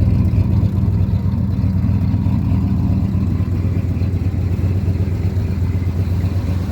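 A Ford F-series truck with a dump bed and a rusty super cab idles close by, its engine giving a steady, low rumble with a slight clatter and no change in pace.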